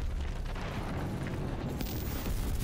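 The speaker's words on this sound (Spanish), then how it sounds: "Sigo sin saber qué hacen esas explosiones" Rumbling explosions from the video game Quantum Break, a dense, continuous low roar with scattered bursts, fairly faint throughout.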